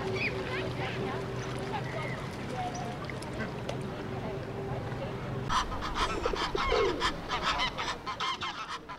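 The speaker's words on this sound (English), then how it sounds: "The pair of Egyptians displaying to each other make a tremendous racket." A pair of Egyptian geese honk loudly and raucously while displaying to each other in a London park, with repeated harsh calls building into a rapid, close racket over outdoor ambience.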